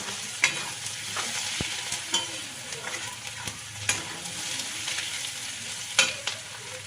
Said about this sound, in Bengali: দেখো ভালো ভাজা হয়ে যাচ্ছে আমার পেঁয়াজটা